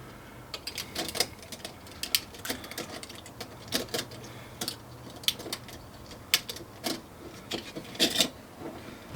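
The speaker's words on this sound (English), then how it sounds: "Let's get all these little clamp screws loose." Faint, close clicks and scrapes come from a small screwdriver loosening tiny clamp screws on Dometic air-conditioner thermostat wiring, with irregular ticking taps over a quiet background hiss.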